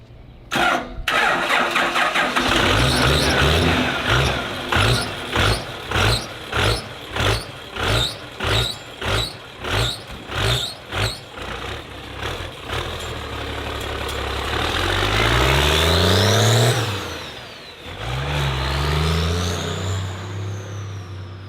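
Burnout car engine cranking in a long rhythmic series of starter pulses, then catching and revving up and down in loud swells before settling.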